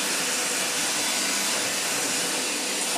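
A premium vacuum cleaner running on a hard floor, a loud steady close whoosh of motor and airflow with no pauses.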